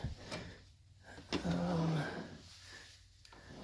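A solid wood, dovetailed, soft-close kitchen drawer slides shut with a short rolling glide and a quiet muffled stop, heard close up in a quiet room.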